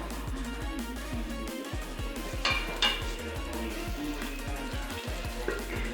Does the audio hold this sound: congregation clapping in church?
no